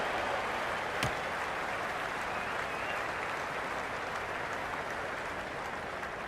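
A large stadium crowd in the cricket game Cricket 26 roars and applauds steadily after a batting shot, a dense continuous wash of cheering with one sharp knock early on.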